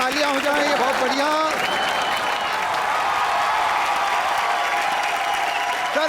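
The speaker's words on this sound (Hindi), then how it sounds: "जोरदार तालियां हो जाएं, ये बहुत बढ़िया।" A studio audience at a live Hindi comedy show bursts into loud, sustained applause with some cheering, rising over a host's voice at the start and then continuing on its own.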